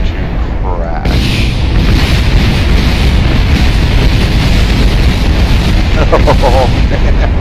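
Explosions from a rocket crashing in the Kerbal Space Program video game, a loud continuous rumbling roar of booms with crackling debris that fills the whole stretch after a short lead-in.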